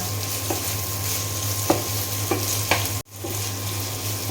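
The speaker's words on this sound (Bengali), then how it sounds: "এখন তেলের সঙ্গে ভালো করে আমি আদা বাটা, পেঁয়াজ, রসুন বাটা ভালো করে কষিয়ে নিব" Ginger, onion and garlic paste, along with cumin and cardamom paste, fry in oil with a constant sizzle and low hum, punctuated by a few stirring scrapes and a brief dropout before the frying resumes.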